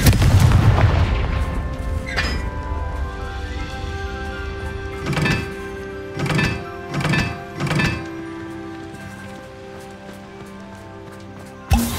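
A fiery Confringo spell explosion from Hogwarts Legacy opens with a heavy booming blast that rings out, followed later by a series of deep, thudding impacts and a final sharp hit.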